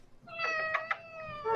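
A cat meows in a short run of drawn-out, tonal calls, close and fairly clear, with a quiet room behind and no talking.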